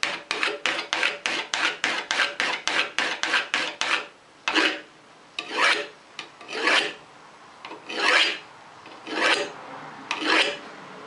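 Burr being rolled on a card scraper edge, first a fast run of about a dozen short, close rasping strokes, then slower, longer single strokes spaced about a second apart, with no voices.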